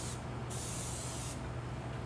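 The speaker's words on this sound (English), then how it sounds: "I'm going to use a pan spray and spray it in" Two short bursts of aerosol pan spray hiss close by as a baking pan is coated, separated by a brief pause, over a low steady hum.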